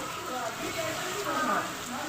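Heavy summer rain with a storm, a steady dense hiss of rain falling on surfaces throughout, with people talking over it.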